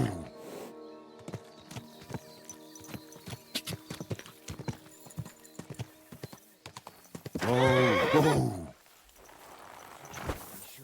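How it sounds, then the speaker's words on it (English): Spooked horses in the medieval game Kingdom Come Deliverance 2: steady, crisp hoof clip-clops on hard ground, then a loud, drawn-out neigh near the end, fairly close, with no talk. "These damned horses, they got spooked in the forest, and this is how it ended up."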